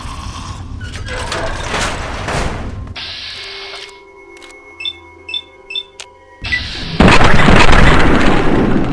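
Gunfire in the video game Fallout 3: a loud blast at the start, then a run of sharp mechanical clicks and pulsing tones, followed by another loud burst of noise near the end.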